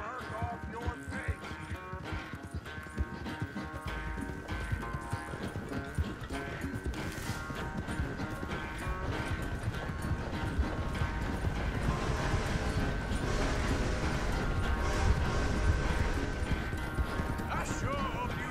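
Horse hooves clip-clop in a steady rhythm within Red Dead Redemption 2, mixed with game music and ambient noise, close and continuous, with an occasional whinny and the walking pace picking up slightly toward the end.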